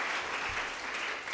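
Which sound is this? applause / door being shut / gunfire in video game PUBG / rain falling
applause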